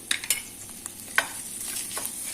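Beef kavurma with a spoonful of butter sizzles in a pan under a soft, continuous fry. A spoon stirs it with a few sharp scrapes and clinks.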